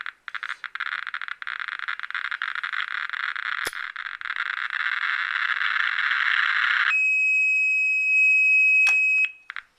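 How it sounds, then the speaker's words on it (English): A Geiger counter's dense crackle of rapid clicks swells into a continuous high-pitched electronic alarm tone, which holds steadily and then cuts off abruptly. "This one actually has an alarm threshold that's set really quite low"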